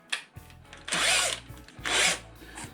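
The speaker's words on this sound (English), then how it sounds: "hole in the seal with a drill bit." A power drill runs in two sustained, loud bursts with brief motor whirs between them, boring a small hole into a seal up close, on a Triumph TR7 gearbox.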